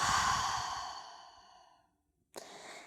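One long, deep sigh-like exhale fades into a brief pause, followed by a short, sharp inhale, close and quiet, as part of slow yoga breathing.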